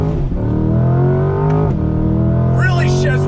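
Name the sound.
2020 Camaro ZL1 1LE accelerating on throttle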